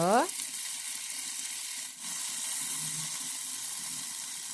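Soybean chunks fry in hot oil with a continuous, close sizzle, and stirring scrapes and shuffles through it. The loud frying hiss carries on steadily with a brief dip partway through.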